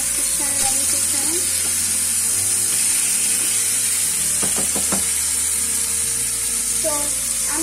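Basa fish fillets fry in a pan on a low gas flame, giving a steady close sizzle with a few brief scrapes and clinks of a utensil against the pan.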